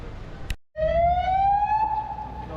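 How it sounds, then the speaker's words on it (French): A police siren wails loudly in a street in Lloret de Mar, a single rising and falling tone sweeping close by after a brief cut, with no talk over it. "là on a des sirènes de police mais ça rigole pas quoi"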